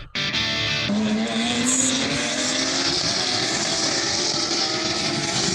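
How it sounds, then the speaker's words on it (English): Porsche GT3 race cars racing at Circuit of the Americas in Austin, loud engines screaming past close by with rising pitch sweeps as cars pass one after another, continuous and without talk. "These are the Porsche GT3s. Racing."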